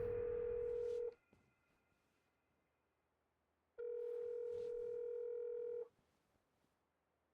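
Ringback tone from a telephone call that goes unanswered: two steady electronic rings, each about two seconds long, separated by a long silent gap, clear and close with no voices.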